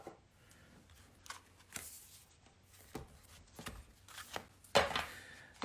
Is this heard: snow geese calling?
no